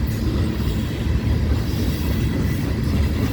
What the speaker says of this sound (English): This is a ballast train.